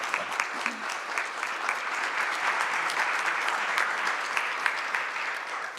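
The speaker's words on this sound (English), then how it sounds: "I would like to ask us to give them a round of applause" Audience applause at a talk, a dense, even wash of clapping from many hands held steady throughout at moderate distance.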